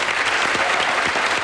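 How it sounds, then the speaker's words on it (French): A 1997 French television studio audience gives a burst of dense, continuous applause, loud and close, with no voices over it. "On va faire une ovation à Eric Charrier."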